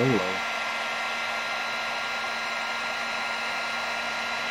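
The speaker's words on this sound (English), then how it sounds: "Now, this is just a heat gun." Heat gun blowing hot air for a motorcycle thermostatic fan control test: a steady, loud whooshing hiss that starts with a brief rising whine and then holds constant, with no voices.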